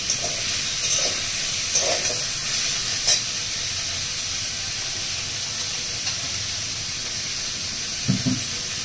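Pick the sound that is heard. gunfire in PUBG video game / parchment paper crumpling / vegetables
vegetables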